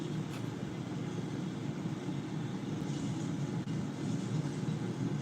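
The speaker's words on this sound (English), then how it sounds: "Let's actually take off in the cockpit for this one." Cockpit-view takeoff in a flight video game: a steady, loud engine rumble drones without pause, a broad low roar holding level throughout with no talking.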